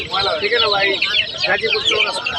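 Fayoumi chickens cluck and squawk loudly and close by at a busy poultry market in Kashimpur, with people talking over the birds.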